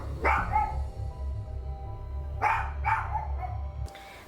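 A dog barks indoors in a room at night, a few sharp yips early and then a quick cluster of barks a couple of seconds later, near and fairly loud over a low steady hum.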